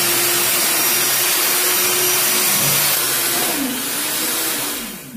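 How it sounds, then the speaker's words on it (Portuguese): An electric hand mixer beating meringue for a lemon tart, a loud continuous whirring drone close by that fades out at the end. "vamos agora começar a bater com a batedeira"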